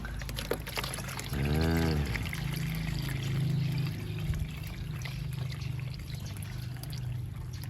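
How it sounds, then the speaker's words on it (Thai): Water poured into a planting container for a Colocasia Coal Miner plant, a close gurgling pour in a short burst followed by a lighter trickle and faint background noise. "เท น้ำใส่ด้านข้าง"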